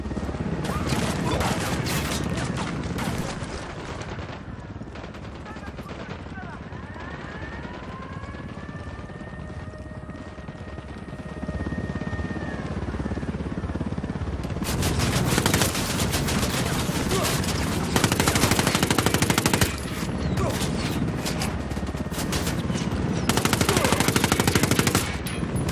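Automatic gunfire rattles in dense bursts throughout a Ghost Recon Wildlands firefight, with a helicopter rotor whining overhead and explosions and crashes mixed in, growing louder and busier in the second half; voices call out beneath the shooting.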